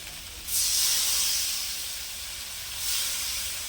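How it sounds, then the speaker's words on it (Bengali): A sharp hiss of water hitting a hot pan of bhetki fish curry base surges up, fades into a steady steaming simmer, then a second hissing burst rises near the end. "দিয়ে বেশ কিছুক্ষণ নাড়াচাড়া করে জল ঢেলে দিলাম"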